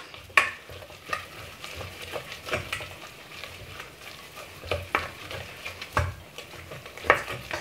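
Choux dough for gluten-free cream puffs being stirred in a pan, a soft steady sizzle under repeated scraping and spoon clacks against the metal, with no one speaking.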